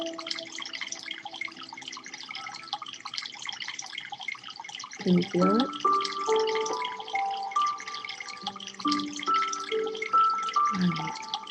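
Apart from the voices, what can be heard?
water sound in the background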